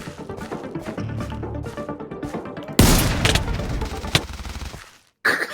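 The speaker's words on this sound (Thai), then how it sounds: "ปืนมึงรัวเกินไอ้มีนปืนมึงรัวเกิน" Rapid gunfire from an overpowered gun in Minecraft, starting as a dense background rattle, then bursting into a loud, sustained volley at close range before cutting off briefly and resuming.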